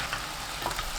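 Shishito peppers tossed into a soy-based braising sauce simmering in a pan give a steady, close frying sizzle and bubbling that carries on evenly for a moment, with no voices.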